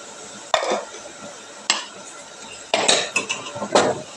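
Chicken curry in a pan as ground coriander leaf paste is stirred in: four separate metal scrapes and clanks against the pan, the last ones quicker and louder, over a low steady background with no speech.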